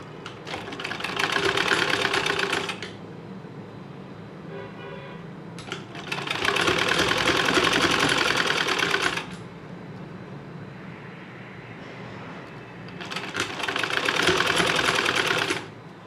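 A sewing machine runs three separate bursts of stitching along a U-folded strip of cloth for a square neckline, each lasting a few seconds, loud and close with quiet pauses between runs and no talking.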